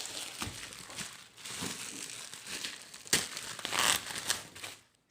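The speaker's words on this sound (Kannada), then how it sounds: "ಓಪನ್ ಮಾಡಿ ನಾನು ಅನ್ಬಾಕ್ಸಿಂಗ್ ಮಾಡ್ತೀನಿ" Packaging around a new Canon 200D DSLR camera crinkles and rustles as it is unboxed. Close, irregular bursts of crinkling swell and fade, with a louder crackling stretch near the end before it falls silent.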